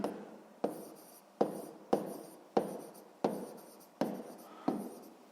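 A pen writes out a sixth-grade maths solution in a notebook, a series of about eight short scratching strokes in an even rhythm, close and alone with no talking.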